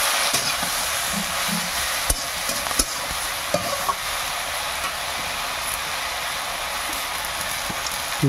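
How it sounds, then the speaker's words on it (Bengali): Turmeric, chili powder and salt being stirred into food in a pan in a Bengali village kitchen in the Sundarbans: a steady frying hiss with scattered scraping clicks from the spoon, with no voices. "লবণ দিয়ে দিয়েছি, দিয়ে এবার নাড়ছি"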